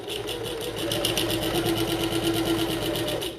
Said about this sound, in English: Start at the top, sew along, pivot at the corner, get to there-ish, and do your back stitching a few times.